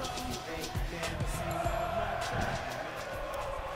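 A video game wrestling crowd in WWE 2K22 cheers for Keith Lee, a faint, continuous arena roar with some thumping impacts underneath.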